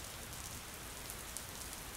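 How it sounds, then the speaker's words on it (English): Large raindrops falling, a soft, steady patter of rain on a surface with a few distinct drops standing out, quiet and even throughout. "Huge raindrops plopped on her head"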